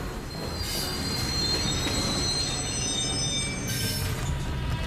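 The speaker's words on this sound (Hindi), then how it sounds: "ट्रेन स्लो हो रही है।" A train brakes and slows, its steel wheels squealing in several high, sustained tones over a steady, loud rumble of railcars rolling on the track, with no talk.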